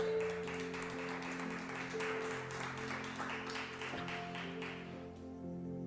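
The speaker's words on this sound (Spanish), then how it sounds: "¿Cuántos le podemos dar palmas al Señor?" Church congregation clapping for the Lord during a sermon, a steady wash of handclaps at moderate distance over sustained organ or keyboard chords, fading near the end.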